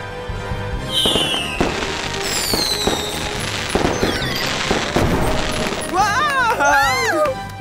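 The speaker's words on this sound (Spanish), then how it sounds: "¿Por qué los fuegos artificiales son de colores?" Cartoon fireworks finale with repeated loud crackling bursts and whistling rising streaks, dense and continuous, mixed with music and excited voices.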